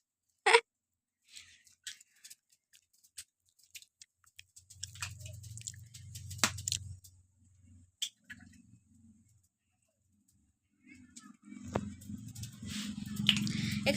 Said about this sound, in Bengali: এখানে দুটো ডিম ফাটিয়ে নেব।